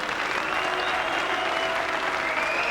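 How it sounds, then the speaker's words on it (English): Crowd booing at a boxing match in Kelvin Hall, Audley Harrison against Piotr Jurczyk: a loud, steady wash of massed jeering voices fills the hall without a break. "I'm surprised at that booing here in the Kelvin Hall"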